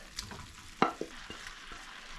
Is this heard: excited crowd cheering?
no